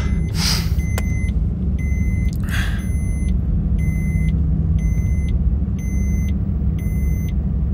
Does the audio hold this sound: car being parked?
yes